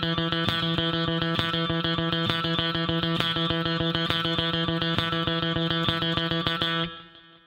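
Electric guitar with a distorted, effects-laden tone plays a steady run of rapid sixteenth-note triplets, six even picked notes per beat, for two measures, loud and close, ending with a brief decay.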